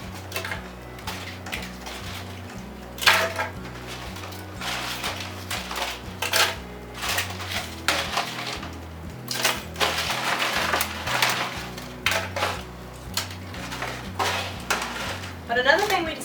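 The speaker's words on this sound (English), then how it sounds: "we're just going to toss these right into" A blender grinds and rattles eggshells in a steady, loud churn, with sharp crunching bursts throughout.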